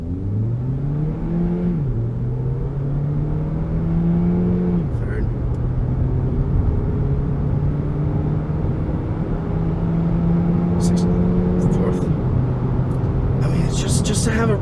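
A 2017 Hyundai Ioniq Hybrid Limited pulls away in sport mode, its engine drone rising in steps through gear changes, heard from inside the cabin over steady road rumble, while a person talks throughout.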